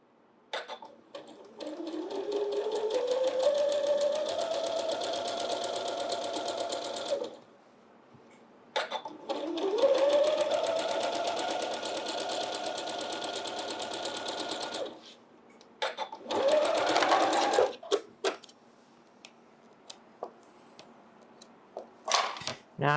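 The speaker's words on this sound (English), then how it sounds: "we're going to sew 1/4 of an inch on each side of that line" Sewing machine stitching a quarter-inch quilting seam, in three runs of rapid whirring stitches that climb in speed, separated by brief pauses with small clicks, close and clear.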